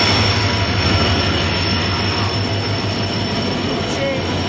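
The Samaleswari Express passenger train runs on its rails, a loud, close, continuous roar of wheels and carriages with a steady high metallic whine throughout.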